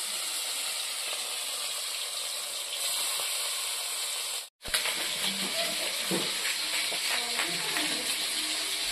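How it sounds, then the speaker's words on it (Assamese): Fish sizzling in preheated hot oil for a village meal, a bright continuous hiss and crackle that cuts out briefly midway, then returns with louder spitting pops close by. "তেলখিনি আগতীয়াকৈ গৰম কৰি লৈছিলোঁ দি দিছোঁ মাছ"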